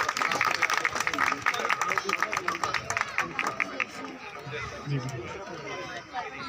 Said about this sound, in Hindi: बहुत तालियां इनके लिए